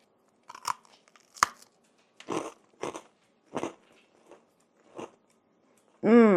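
Pieces of freeze-dried, chocolate-covered mango are bitten and chewed with a series of sharp, close crunches spaced through the moment, ending in a brief burst of another sound.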